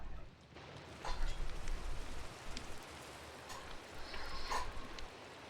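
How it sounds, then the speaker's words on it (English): Steady rain falls in a video game, a soft continuous hiss with a few faint drops and clicks on top. It is fairly quiet and heard on its own without voices. "I don't like rain."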